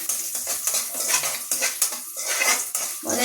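A spoon stirs food in a metal pot, scraping and clinking against the sides in quick, uneven strokes, close and fairly loud, with a faint sizzle underneath.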